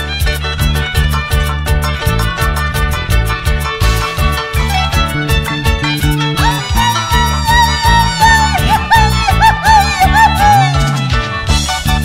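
Andean folk song, a loud, steady band performance with rhythmic strummed strings and bass under a melodic line that rises and bends near the end, with no talking over it.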